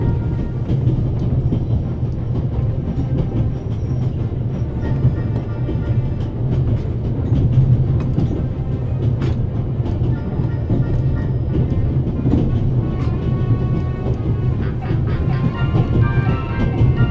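A train ride in the video game The Raven, with a steady low rumble of the carriage on the rails and faint rhythmic clatter underneath, continuous and even throughout.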